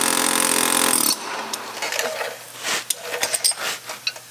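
An air hammer rattles loudly in a fast continuous burst while knocking out a bolt, then cuts off, leaving quieter clanks and shuffling sounds.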